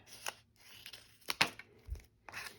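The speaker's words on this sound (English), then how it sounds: "I can just take a pair of scissors" Scissors snip through paper in a few quick, separate cuts with short pauses between them, close and fairly quiet.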